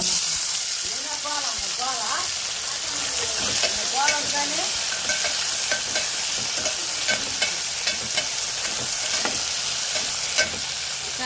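Onions and thinly sliced green chillies fry in a pan as tomatoes go in: a steady, close sizzle runs throughout, broken by repeated scraping stirs of a spoon against the pan, with no one speaking.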